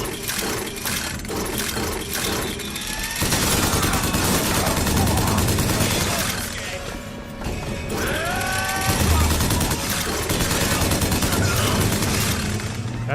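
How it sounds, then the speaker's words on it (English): Rapid, sustained firing of the crank gun in Bioshock Infinite, a loud mechanical machine gun hammering on through most of the stretch with crashes and enemy shouts mixed in. "That's some nice shooting there with the crank gun."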